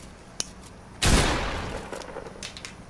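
Gunfire in the Fortnite battle royale game: a faint single crack, then a loud broadband burst of shots that trails into a rumbling decay with scattered softer pops.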